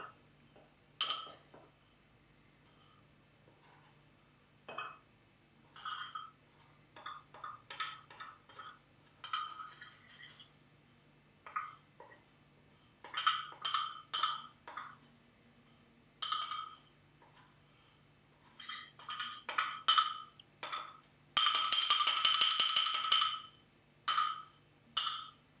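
A metal spoon clinks and scrapes against a mug in a kitchen, in repeated bursts of bright, close ringing taps separated by short pauses, with a louder cluster of rapid clinks toward the end.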